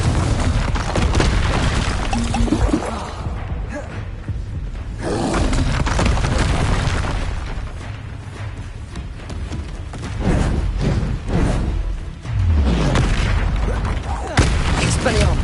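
Confringo explosive spells blasting repeatedly in the Hogwarts Legacy video game, a dense run of loud booms and fiery bursts over a constant battle and music bed.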